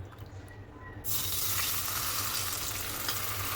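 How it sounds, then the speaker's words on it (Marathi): Gravy stirred into a hot kadhai, starting with a quiet low hum and jumping after a second into loud, steady broadband sizzling that holds to the end, close by and with no talking. "आपण जी ग्रेव्ही केली होती ती त्या कढईमध्ये टाकायची. मिक्स करून घ्यायचं."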